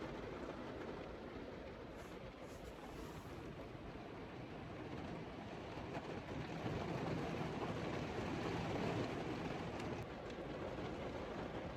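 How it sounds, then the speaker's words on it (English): Heavy rain falling on a car at night in the Scottish Highlands, a constant dense roar of drumming on the roof, faint and steady, growing slightly heavier partway through, with no talking. "the rain is getting super heavy now"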